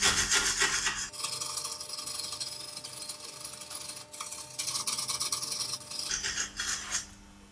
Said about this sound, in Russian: Первым делом очищаем резьбу от грязи при помощи металлической щетки.